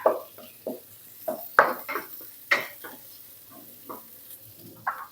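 Shrimp stir-fried with garlic in a pan over low heat, a spatula scraping and clinking against the metal in irregular bursts over a soft, low sizzle.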